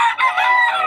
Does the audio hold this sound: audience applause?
no